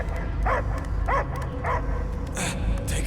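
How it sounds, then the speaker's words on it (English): A dog barks in the video game Guardians of the Galaxy, three clear barks at a steady pace followed by a higher yelp, over a low background rumble. "I hear only barking."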